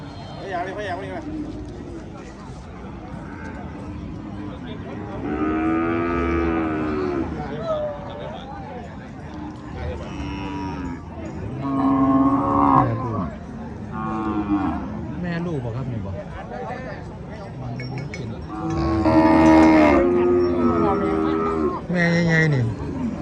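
Cattle moo repeatedly at a busy cow market in Somdet district, Kalasin province, Thailand, with several loud, drawn-out calls rising over the constant chatter of people talking nearby.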